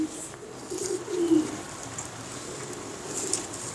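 A fancier's pigeon gives soft, low coos, a couple of rolling calls near the middle, heard close but quiet against a light background.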